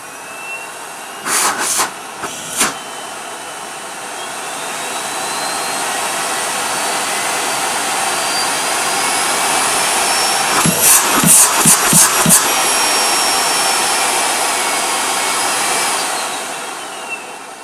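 A new, unused Miele S380 Power 1800 vacuum cleaner runs steadily nearby, its motor whine rising and holding, with a few sharp knocks and clicks near the start and midway through.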